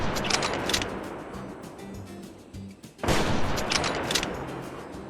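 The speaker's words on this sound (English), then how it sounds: "I am not great at the long-range rifle shots on flying targets, so probably not gonna get this" Gunfire in the hunting game Prehistoric Hunt, a loud burst of shots and rumbling at the start, a quieter lull, then a sudden second sharp blast and echoing rumble near the end.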